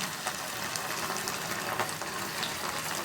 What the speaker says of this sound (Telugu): ఇప్పుడు ఈ పీసెస్ అన్నీ ఒక్కొక్కటిగా ఆయిల్లో వదిలేద్దాము